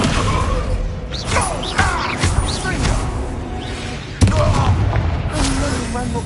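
Descendo spell slamming enemies to the ground in a Hogwarts Legacy fight, with several heavy booming thuds and a sharp loud slam late on, amid busy combat noise and brief voices.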